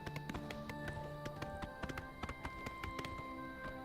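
Horse hooves clip-clop in a quick, steady rhythm in the video game The Elder Scrolls IV: Oblivion Remaster, over a soft ambient hum, with faint tonal background music.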